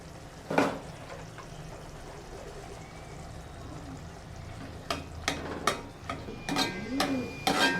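Dal being added to ridge gourd and tomatoes cooking in a pan, with soft stirring, scraping and light sizzling, then a series of sharper clinks and knocks of a spoon against the pan toward the end.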